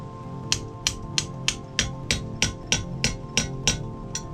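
Gentle, evenly spaced tool taps from a Z20LET engine top-end rebuild, about a dozen crisp, close knocks in a steady rhythm with no talking.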